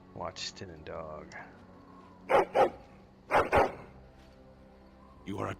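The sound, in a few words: dog barking in the video game Dragon Age: Origins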